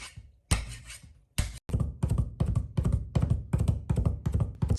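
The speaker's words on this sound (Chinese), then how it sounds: "4-5粒大蒜趁其不备拍匀剁碎" A kitchen knife smashes and then minces four or five garlic cloves on a cutting board, beginning with a few heavy flat thumps and moving into a quick, steady run of close, loud chopping strikes.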